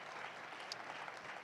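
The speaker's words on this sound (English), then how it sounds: "let's all give a round of applause" An audience applauds after a talk about Martin Luther King Jr., giving a faint, steady patter of clapping heard from a distance.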